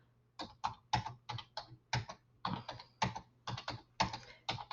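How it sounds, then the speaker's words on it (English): Numbers are typed into a computer keyboard in quick clusters of close, crisp key clicks, each burst ending with a firmer tap of the enter key, spaced at a steady rhythm with no talking. "I'm just hitting enter in between each one so that you can just advance through."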